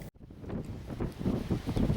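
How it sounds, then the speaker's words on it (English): Strong wind on the northern Scottish coast buffets the microphone in gusty, rumbling bursts, loud and close, with a brief lull near the start. "pretty blowy"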